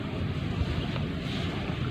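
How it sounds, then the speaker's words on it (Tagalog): Strong wind blows steadily while fishing for tilapia, a dense, continuous rushing with microphone buffeting and no pauses. "Sobrang hangin"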